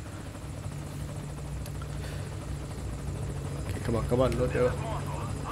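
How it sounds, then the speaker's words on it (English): A support helicopter in Metal Gear Solid V: Ground Zeroes hovers close by, its steady rotor drone and chopping continuous throughout and growing slightly louder, while someone talks over it near the end. "Patiently waiting for the chopper."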